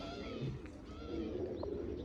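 Soft pigeon cooing comes from nearby in a low, muffled murmur, with faint chirps and background hum around it.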